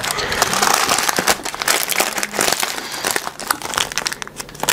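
A plastic bag crinkles and rustles continuously up close, handled in dense, irregular crackling bursts with no talking over it.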